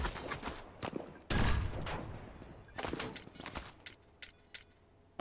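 Bursts of video game gunfire from an enemy bunker, a heavy volley erupting suddenly and then scattered shorter shots and footstep-like clatter trailing off, fairly loud but somewhat distant.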